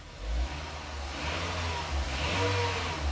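A car engine revs up steadily, its pitch climbing as the throttle opens, heard close and alone with a low rumbling drone underneath.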